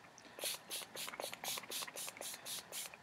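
A pump spray bottle of pigment colour spraying, about ten quick hissing spurts in a steady rhythm, close and fairly crisp against a quiet room.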